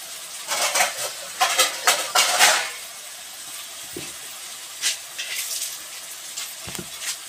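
Fried potatoes go into a pan of chicken curry, a few loud bursts of sizzling hiss early on, then quieter intermittent sputters and clinks as the pan settles.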